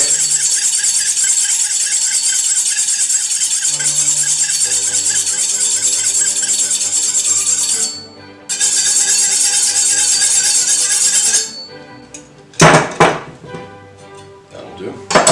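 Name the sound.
sharpening a knife on a honing steel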